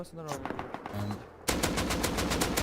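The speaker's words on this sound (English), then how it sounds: "you can see Tak engaging in what I would call medium range AK PvP" In the video game Rust, an AK rifle fires a rapid automatic burst at medium range, loud and dense, after a moment of game sounds and faint voices.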